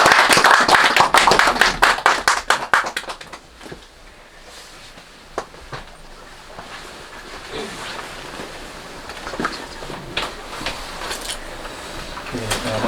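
An audience at a church worship service claps in welcome, a dense burst of hand claps that fades after about three seconds, leaving a quiet room with scattered taps.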